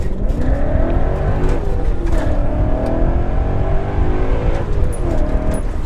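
A BMW E39 M5 fitted with an ESS VT560 supercharger kit accelerates hard, its engine roaring and climbing through revs in a continuous loud rush, heard from inside the car with a steady whir beneath.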